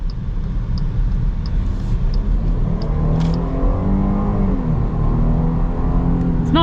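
A Jeep Grand Cherokee with a V6 and 8-speed automatic accelerates, its engine droning steadily from inside the cabin as the pitch climbs through gear changes, loud and continuous.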